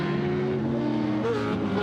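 Race cars roaring along an icy street course at the Fur Rondy Grand Prix in Alaska, a loud steady engine drone with rising and falling pitch as cars pass close by.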